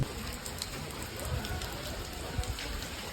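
Heavy monsoon rain pours down steadily on a pilgrimage trip to the Ekvira temple, a dense, even hiss with scattered heavier drops hitting nearby surfaces and no voices.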